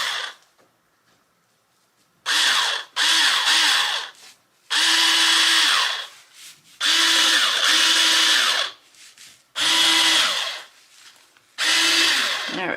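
Power drill boring a hole through burlap ribbon: repeated loud whirring bursts of a few seconds each, separated by short pauses, close up.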